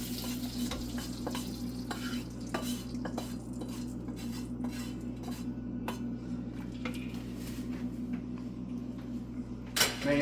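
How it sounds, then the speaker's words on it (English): Corned beef sizzles and fries in a hot pan while a utensil stirs it around, scraping and clinking against the metal in an irregular rhythm over a steady low hiss, close and quiet, with no talk. "we're going to stir this around a little bit"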